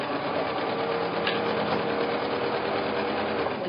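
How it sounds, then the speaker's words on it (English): A sewing machine stitches a log cabin quilt block, its motor and needle humming in one steady, close, unbroken run with no talking. "We sew where we come out even with the dark on the bottom when we get through that block."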